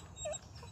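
A restless dog gives one short, high whimper, faint against a low background hum, with nobody speaking.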